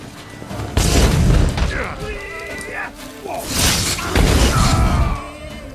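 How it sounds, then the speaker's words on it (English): Heavy booming explosions from a bombardment in The Witcher 3 game, two loud bursts with rumbling tails and whooshing debris, interleaved with game sound effects, close and dominant. "ya me están bombardeando"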